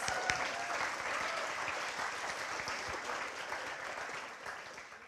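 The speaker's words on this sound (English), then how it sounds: "let's do a little round of applause" An audience at an author talk in an opera house gives a round of applause, a continuous, somewhat distant patter of many hands that stays even for about five seconds.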